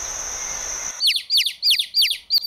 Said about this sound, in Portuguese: Passarinhos, ó.